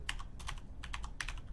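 Someone types a command on a computer keyboard while a game runs, producing a quick close run of light clicking keystrokes in small bursts.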